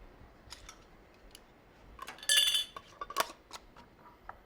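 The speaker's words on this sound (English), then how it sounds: "now it's just a matter of placing the lids on all of these quart jars, just like this" Metal lids are set onto glass quart canning jars filled with sauerkraut, making a series of sharp, close metallic clinks and taps. A brief cluster of clinks rises in the middle, with quieter scattered ticks around it.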